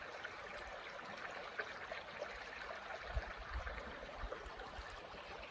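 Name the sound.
creek water flowing at campsite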